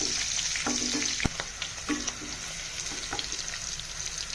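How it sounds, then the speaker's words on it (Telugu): Chopped green chillies frying in hot oil, a steady bright crackling sizzle with a few sharp pops and stirring knocks throughout, close and fairly loud. "అదే నూనెలో మనం తరిగి పెట్టుకున్న పచ్చిమిరపకాయలు, ఇది కొంచెం ఫ్రై అయ్యాక ఆనియన్స్ వేద్దామండి."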